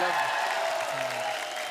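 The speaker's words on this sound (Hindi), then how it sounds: "जोरदार तालियां हो जाए हमारे गेस्ट के लिए" Studio audience applause for the guests on The Kapil Sharma Show, a steady wash of clapping throughout while a host speaks over it.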